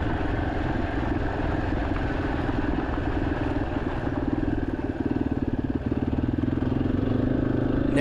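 A Yamaha XT-250 dual-sport motorcycle runs along a flat gravel road beside a levee, its steady mid-pitched engine drone close and continuous with a faint clattering pulse throughout, no voices.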